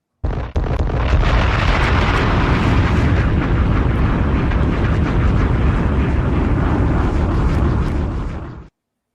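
A bomb explosion sound effect bursts in sharply, then gives way to a long, loud, roaring rumble that holds steady for several seconds before cutting off abruptly.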